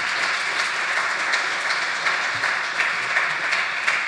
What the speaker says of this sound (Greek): Ωραία, θερμό χειροκρότημα για την ομάδα.